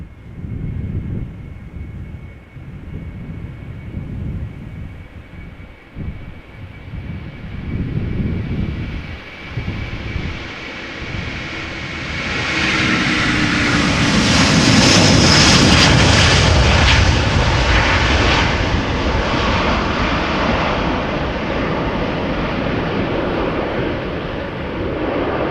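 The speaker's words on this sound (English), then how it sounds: "First one is Delta Airlines Flight 137, Airbus A330-300 outbound to Detroit." A Delta Airbus A330-300 jet on its takeoff roll from Schiphol Airport's runway 36L, a roaring engine rumble building steadily to a loud, broad peak that then holds, with some wind buffeting the microphone.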